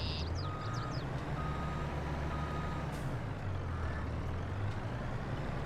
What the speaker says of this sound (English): We're using Tuki's favorite truck.